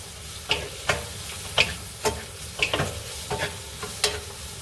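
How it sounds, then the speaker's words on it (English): Minced ginger browning in a hot pan for Vietnamese braised beef short ribs, with a steady sizzle broken by a run of sharp, close spatula scrapes and taps, roughly one every half second, with no talking. "So I am just going to move it around a little bit here and get this browned a little bit"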